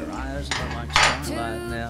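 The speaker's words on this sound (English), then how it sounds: "I like to take a very festive swizzle stick and mix it around" A festive swizzle stick stirs a holiday drink in a glass, giving a few close, bright clinks and scrapes against the glass over a faint background hum.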